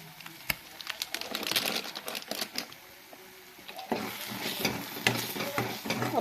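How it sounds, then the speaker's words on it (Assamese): Salt, turmeric, ground coriander and ground cumin fry in a pan for a dhaba-style paneer dish, with a soft sizzle under uneven, repeated scraping and stirring strokes close by. "অলপ সময় এনেকৈ ভাজিব লাগিব।"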